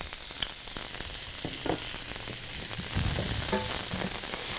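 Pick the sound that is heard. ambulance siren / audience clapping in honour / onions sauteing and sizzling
onions sauteing and sizzling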